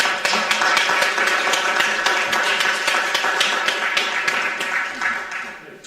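Applause from the audience at an Oxford City Council full meeting, a dense run of clapping that stays loud and steady for several seconds before tapering off at the end.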